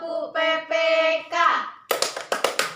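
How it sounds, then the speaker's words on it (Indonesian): A class of fifth-grade children performs the Tepuk PPK clapping chant together: sung chant syllables first, then a series of sharp, loud group claps in a quick rhythm near the end. "Nanti kita tepuk PPK bareng-bareng ya."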